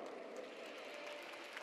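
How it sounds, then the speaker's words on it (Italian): Sustained applause from a large audience at a papal general audience, a steady broadband clatter of many hands throughout with no pauses. "No, meno applauso"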